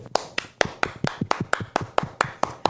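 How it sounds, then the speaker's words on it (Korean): Eleven sharp, evenly spaced hand claps ring out close and loud at a steady quick pace during a Korean online show's giveaway segment, with no talking over them. "축하합니다. 박수."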